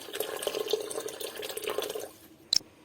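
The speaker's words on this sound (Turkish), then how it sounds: "Şimdi kaynattığım işkembenin suyunu ekliyorum. Biraz daha sıcak su ilave ediyorum." Hot water and boiled tripe broth poured into a pot for tripe soup, a steady liquid wash running close and moderately loud for about two seconds, then easing off before a brief clink near the end.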